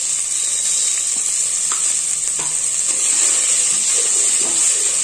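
Turmeric powder fries in oil in a pan for biryani, a bright, steady hissing sizzle close up with a few light stirring taps, constant and fairly loud.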